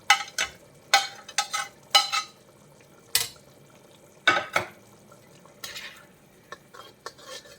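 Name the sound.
fried prawns stirred into boiling pickle gravy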